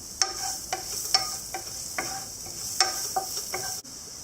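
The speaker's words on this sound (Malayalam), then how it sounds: "ഇഞ്ചി ചേർക്കാം. ഇനി അതൊന്ന് റോസ്റ്റ് ചെയ്തെടുക്കാം." Ginger and garlic roast in melted butter in a pan for chicken cutlets, with a soft sizzle under repeated sharp scrapes and taps of a spoon against the pan at a fairly regular pace, close by and with no voices.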